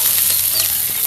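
Fish sizzles steadily as it fries in oil in a pan, a close, continuous hiss with small crackles and no voices.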